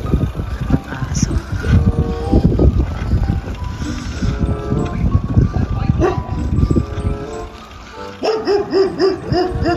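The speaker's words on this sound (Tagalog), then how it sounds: "Aso." A dog barks outdoors on a windy day in Canada, a few sharp barks standing out toward the end over continuous wind rumble and buffeting.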